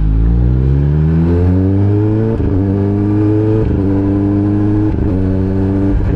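A loud Kawasaki ZX10R motorcycle engine starts and revs steadily, its pitch rising and dipping in several close, continuous surges with no pauses.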